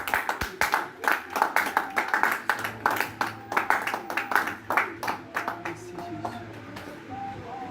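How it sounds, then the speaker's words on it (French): Church congregation clapping in steady rhythm to acclaim Jesus, many hands beating together at a brisk even pulse throughout, with voices mingled underneath. "Acclamez Jésus."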